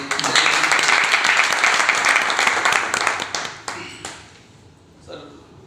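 Loud applause fills a meeting hall, dense clapping from a crowd that holds steady for several seconds, then thins out and fades with a few scattered claps near the end.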